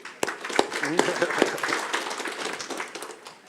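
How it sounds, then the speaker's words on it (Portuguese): Audience applause at a strategic planning forum, a brisk run of claps with sharp individual hits, mixed with speech, gradually thinning toward the end. "Mais palmas, pô."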